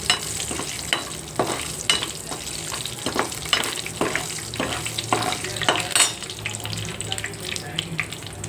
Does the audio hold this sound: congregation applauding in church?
no